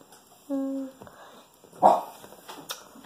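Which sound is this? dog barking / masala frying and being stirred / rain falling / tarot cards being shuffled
dog barking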